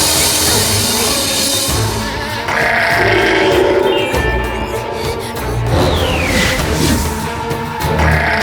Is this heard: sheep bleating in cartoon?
yes